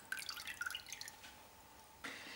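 Salt brine dripping from a cured ham as it is lifted out after seven days in the brine, a run of close, bright drips and trickles that thin out, then a brief splash at the end.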